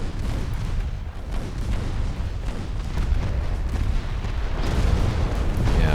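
Torpedoes strike the 1920s Norwegian warship Tyr in a naval game battle, giving heavy, rumbling booms over a dense, continuous roar of explosions and gunfire that stays loud throughout.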